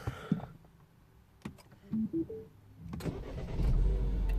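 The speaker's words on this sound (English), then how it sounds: "I'm gonna restart the engine again, just so you can see this one more time." A Mini Cooper S with the N14 engine restarts after an ECU repair, with a few clicks and a brief starter whir, then the engine catches and settles into a low, steady idle close by.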